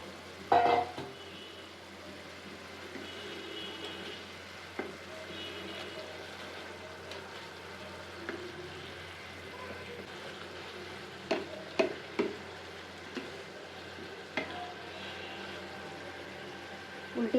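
Fried tilapia pieces go into a spice paste and fry in a pan as a fish bhuna, giving a quiet continuous sizzle with occasional sharp clatters of a spoon stirring.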